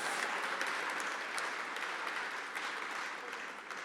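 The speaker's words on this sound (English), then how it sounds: "We can give Parks a big round of applause too." Audience applause fills a benefit event celebrating a new city park, a steady, dense wash of many hands clapping that holds throughout and eases off slightly toward the end.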